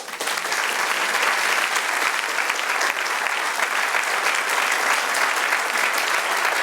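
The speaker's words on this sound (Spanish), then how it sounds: "Denle un aplauso al Señor." A church congregation applauds during a Spanish-language sermon, a full, even wash of many hands clapping that holds steady and loud throughout, with no speech breaking through.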